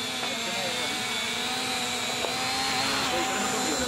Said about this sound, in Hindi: आप देख सकते हैं हमारा ड्रोन अच्छी तरीके से उड़ान लेते हुए